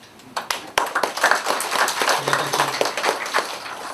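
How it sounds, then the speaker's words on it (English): Audience clapping at a launch ceremony presentation, a steady patter of many hands building after a few sharp early claps and carrying on at moderate volume for several seconds. "I think he needs a kind of a loud applause for that"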